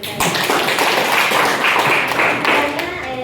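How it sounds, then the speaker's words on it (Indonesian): Students in a classroom after a matrix lesson clap their hands together, a busy, fairly loud burst of overlapping claps lasting a few seconds, close to the microphone with no talk over it. "Silahkan tepuk tangan dulu."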